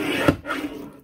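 A paper trimmer slices a narrow cardstock strip, making one short, close scraping swipe with a faint rasp trailing after it.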